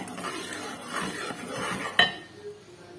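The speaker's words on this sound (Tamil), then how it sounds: "மாவு போட்டு கொஞ்சம் கொஞ்சமாக போட்டுட்டு கிண்டுறேன்" A spoon scrapes and stirs flour into a pot while making adhirasam, in soft, uneven strokes, with a sharp metallic clink partway through.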